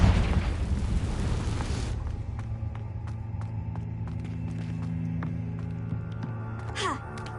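A Confringo fire-blast spell from Hogwarts Legacy erupts as a loud, dense burst of noise that quickly settles into a lingering rumble, with scattered clicks and sharp accents over a steady low drone.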